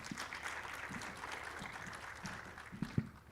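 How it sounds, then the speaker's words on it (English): Faint, distant round of applause from the audience at a national consultation gathering, a soft steady patter of clapping with a few sharper claps near the end. "May we give them a round of applause again?"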